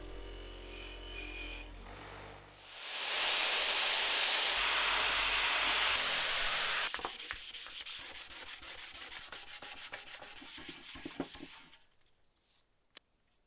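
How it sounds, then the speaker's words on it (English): Paint being stripped from a Triumph TR7 dashboard bracket: a harsh, steady abrasive rubbing and sanding, loudest in the middle stretch, then lighter scraping strokes that fade out near the end. "I got everything cleaned up and the paint stripped where I could"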